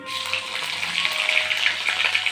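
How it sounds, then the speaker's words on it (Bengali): Cumin seeds sizzle in hot oil with bay leaf and chili already in the pan, a steady, close crackling hiss that fills the whole moment with no talking. "একটু জিরে ফোড়ন দিয়ে দেবো"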